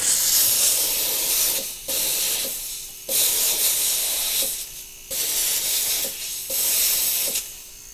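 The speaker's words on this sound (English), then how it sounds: "I'm going to steam clean it though" A jewelry steam cleaner hisses loudly and close in repeated bursts, about five sharp blasts of roughly a second each, separated by short quiet gaps.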